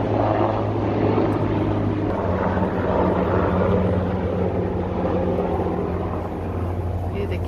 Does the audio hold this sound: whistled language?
no